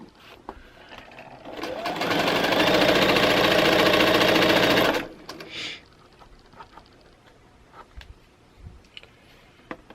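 A sewing machine stitches quilt block pieces for a cross block in one steady burst of rapid, even whirring lasting about three seconds, followed by faint clicks and handling noises with no talking.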